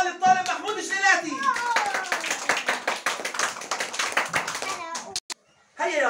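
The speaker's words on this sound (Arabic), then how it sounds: "أحسنت يا محمود، تصفيق حال الطالب محمود جلالاتي" Children clap for a young student at an Islamic institute classroom after he writes the Arabic letter Ra, a burst of quick, uneven claps close by with a teacher and kids talking over and around it, then a brief pause.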